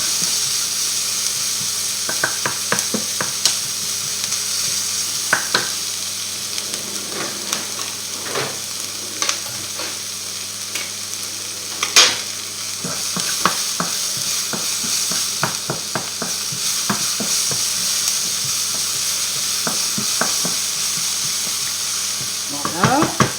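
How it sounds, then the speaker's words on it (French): Garlic and onions sizzle steadily in a pan while being stirred, with scattered scraping clicks from the utensil over a constant frying hiss, close and alone. "On fait bien blanchir notre ail et nos oignons."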